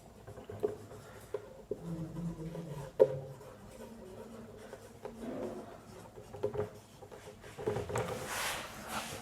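Chalk or marker scratches and taps on a board during a physics lecture, with irregular strokes, dots and rubbing sounds close by for several seconds and no talking.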